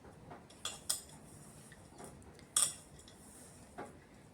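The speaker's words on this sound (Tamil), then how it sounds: "இப்போ ரெண்டையுமே ஒரே பாத்திரத்தில் போட்டு நல்லா மிக்ஸ் பண்ணிக்கலாம்." A spoon clinks against a vessel while peanuts and grits are mixed together, giving a few sharp metallic taps and scrapes with quiet pauses between them.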